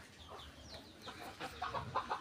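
Desi hens and chicks in a chicken coop give soft, faint clucks and short peeping calls in a quiet, close setting.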